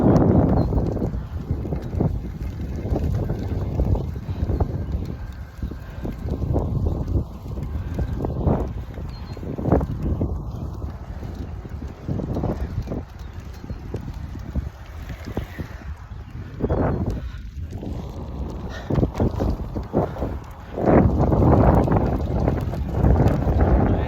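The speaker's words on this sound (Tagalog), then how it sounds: "maaraw pero medyo mahangin na konti" Wind on a sunny, mildly breezy day buffets the microphone in repeated gusts during an outdoor ride, giving loud rumbling bursts over a steady background rush.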